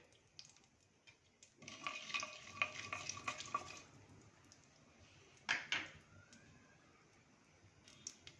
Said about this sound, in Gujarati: એટલે એક ચમચી રાઈ નાખીશું રાઈને આપણે તડતડ થાય ત્યાં સુધી આપણે પકવવા દઈશું